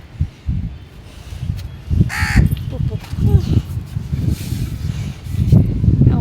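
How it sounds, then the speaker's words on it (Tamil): Several crows caw repeatedly while waiting to be fed, harsh calls overlapping at close range amid rustling and a voice talking throughout. "ஒவ்வொரு காக்காவாக வருவாங்க பாருங்க"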